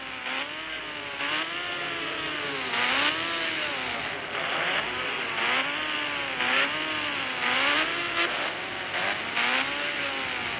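A motorbike engine in the Indian Bike Driving video game revs over and over in a steady rising and falling cycle, a buzzy, moderately loud whine repeating every second or two.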